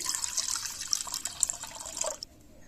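Water pours steadily into a basin for about two seconds, a close, splashing, filling sound that then stops abruptly.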